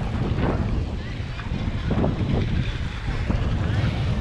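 Wind blowing at a Black Sea beach in Crimea near Yevpatoria, loud buffeting gusts rumbling over the microphone with faint surf and distant sounds underneath.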